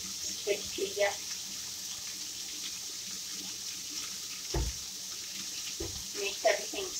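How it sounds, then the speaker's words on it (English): Water from a tap runs steadily as sticky hands are washed in a kitchen, a soft, even hiss at low level broken by a few faint splashes and knocks, with occasional quiet speech. "let me wash my hands"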